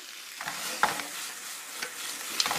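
Shiitake mushrooms and bamboo shoots stir-fry in a hot wok, giving a constant close sizzle broken by several light scraping stirs of the spatula.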